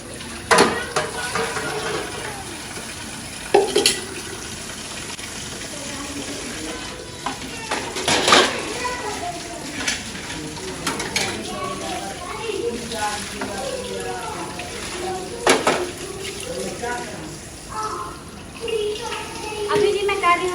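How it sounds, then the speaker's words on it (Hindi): Dishes are washed in a home kitchen under a running tap, with a steady water rush and frequent clattering knocks of pots and utensils. Someone talks over it throughout. "अभी मैं कर रही हूँ बर्तन धुलाई"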